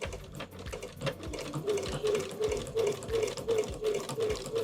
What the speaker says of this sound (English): And then sew off the edge nice and slow.